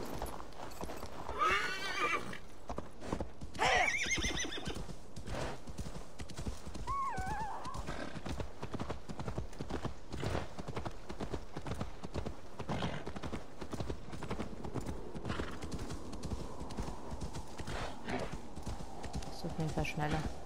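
Horse hooves clip-clop at a steady gallop in Assassin's Creed Valhalla, joined by a couple of sharp whinnies early on, continuous and close under game ambience with some speech.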